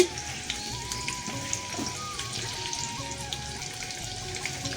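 Chopped onion, garlic and green chili frying in oil, a soft, continuous sizzle with scattered small pops, fairly quiet, with a faint tonal hum in the background.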